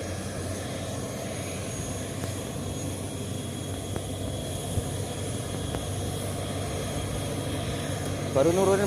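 Airplane engines drone steadily and loudly across an airport apron at Pangkalan Bun, a constant roar that holds throughout, with voices faintly under it.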